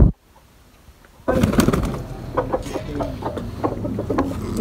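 Pet pigeons with yellow eyes, including a black and white female, coo and rustle at close range after a brief silence, soft repeated calls.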